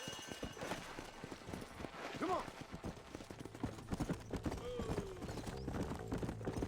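Horse hooves clip-clopping at a gallop in the Western video game Red Dead Redemption, a steady rhythmic patter under game music and other effects, with characters talking over it.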